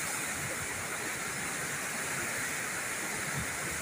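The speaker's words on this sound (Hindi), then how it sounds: "ये अभी 4 लाख क्यूसेक का रेला चल रहा है।" Flood water, about 400,000 cusecs, rushes through Jinnah Barrage in a steady, dense roar that continues without a break and has no voices over it.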